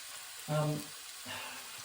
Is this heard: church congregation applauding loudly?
no